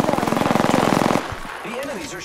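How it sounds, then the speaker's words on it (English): Rapid automatic enemy gunfire in a video game rattles in a steady fast burst for about a second, then cuts off, leaving softer game effects and whooshing tones. "The enemies are shooting at me"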